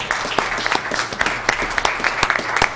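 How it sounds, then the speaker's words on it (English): Audience applause at a city council meeting, a moderate burst of clapping with distinct sharp individual claps standing out over a steady patter throughout. "So that's the first round of applause we need to do."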